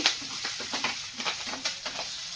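Tomato pieces and curry leaves are stirred in a pan for a beetroot curry, giving a soft sizzle with a steady, faint scraping rhythm and no talking.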